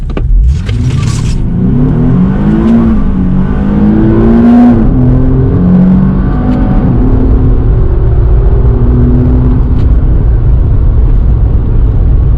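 A base coupe Nissan 370Z accelerates hard in first gear with traction control on, its engine rising in a loud, close, climbing growl as revs build toward the shift point.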